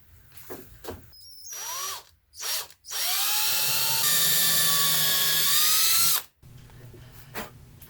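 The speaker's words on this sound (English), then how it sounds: "use a much larger drill bit just to drill the chamfer" A power drill with a large bit drills a chamfer, whirring loudly in a short burst, pausing, then running steadily for several seconds with a high whine before stopping.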